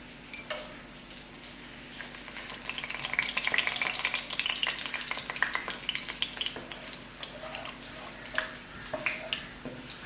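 Cumin seeds, a star anise and small cardamom pods frying in half a cup of hot oil, a soft crackling sizzle with scattered ticking pops that swells in the middle and then thins out.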